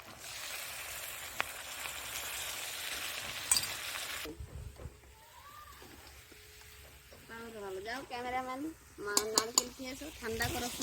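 A spoon scrapes and stirs steadily through duck meat as yogurt is worked in, a dense sizzling clatter in a pan for about four seconds before a voice starts talking over quieter kitchen sounds.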